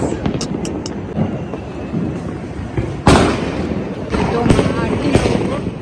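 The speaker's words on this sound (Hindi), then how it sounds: "ये लोग पटाखा छोड़ रहे हैं देखिए।" Diwali firecrackers pop and bang outdoors, one sharp crack standing out among scattered distant bursts, with voices talking in the background.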